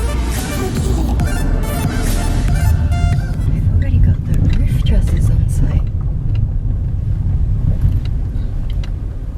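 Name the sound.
rental car driving on the road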